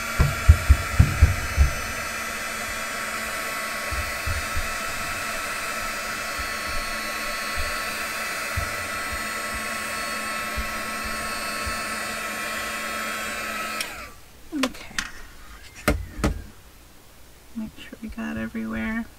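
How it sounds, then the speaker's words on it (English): A heat gun blows hot air to emboss powder on a craft piece, a steady loud roaring whoosh lasting about fourteen seconds before cutting off, followed by scattered handling clicks and bumps. "grab my heat gun here"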